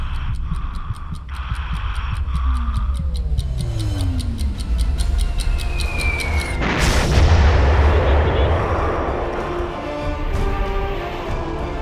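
SCALP cruise missile fired from a Rafale jet during a strike run, with a loud booming launch and roaring rush among rapid ticking pulses and falling tones, set against steady jet noise and radio-style voices.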